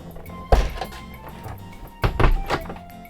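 A folding door inside a new camper van is swung open and shut, giving two solid, close thunks about a second and a half apart, with light rattling and clatter after each.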